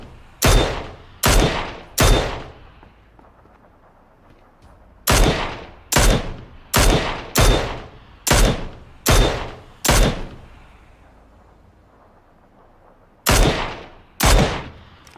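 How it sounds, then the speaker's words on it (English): Gunfire in PUBG, loud sharp shots in uneven bursts: three quick reports, a pause, a rapid run of six, then two more after a gap, each with a short decaying tail. "Might as well take some shots at them"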